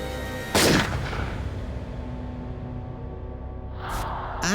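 A single loud gunshot in a staged true crime reenactment of a killing, a sharp broadband blast followed by a lingering rumble, with a second burst of sharp noise near the end.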